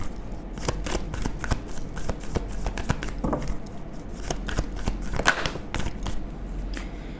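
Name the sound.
tarot cards being shuffled and drawn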